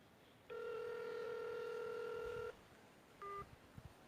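Calling mother on a telephone: a steady two-second ringback tone, then silence, then a short beep, faint and close, with no talking.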